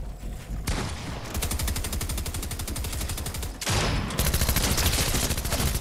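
Rapid sustained automatic gunfire from Fortnite gameplay, loud and continuous bursts with a brief pause before another dense volley, no talking.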